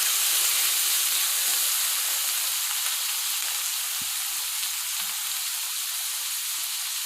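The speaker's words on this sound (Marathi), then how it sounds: "कांदा थोडा परतला की त्यात टोमॅटो टाका आणि तो व्यवस्थित परतून घ्या" Tomatoes and onion fry in hot oil in a pan, producing a constant close hiss and sizzle that barely changes, with faint spoon movements now and then.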